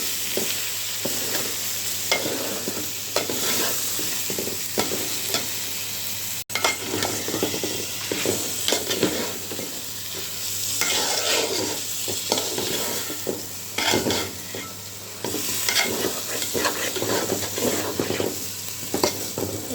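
Rice for biryani fries in a pot with salt and meat, sizzling loudly while a spoon scrapes and stirs it in repeated close strokes, with no one talking.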